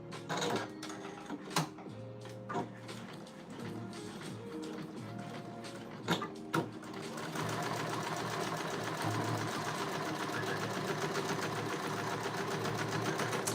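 Sewing machine stitching along a chalk line: intermittent bursts of rapid mechanical clatter with taps and thumps, then a steady continuous run of stitching, fairly quiet and close, with no talking.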